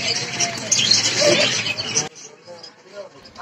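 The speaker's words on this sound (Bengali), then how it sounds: "আর এটা দেখতে পাচ্ছেন যে একটা ঘুঘু পাখির কীরকম ডাকতেছে" Doves cooing and other birds chirping at a bird market in Gazipur, moderately close amid background crowd babble, with the louder chatter dropping off partway through.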